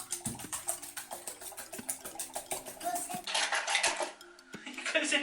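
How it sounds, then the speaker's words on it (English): Eggs beaten fast with a whisk in a bowl during home baking, a quick rhythmic run of metal-on-bowl clinks and taps, close and fairly loud, with a voice briefly audible. "Best to beat with a whisk."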